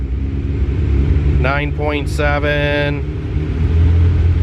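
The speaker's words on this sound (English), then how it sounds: "If I rev it up" Turbocharged Honda Civic engine running rich at idle on a dyno setup, close and loud, with a short rising rev in the middle before settling back to a steady idle; a voice speaks briefly.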